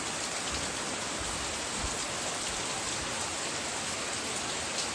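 Heavy morning rain pours down steadily on a farm, a dense unbroken hiss of drops close by with no voices.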